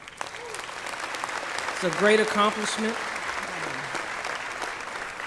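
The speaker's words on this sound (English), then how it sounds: "Give yourselves a round of applause." Graduates at a spring commencement applauding, a sustained hall-filling patter of clapping with a speaker talking over it briefly.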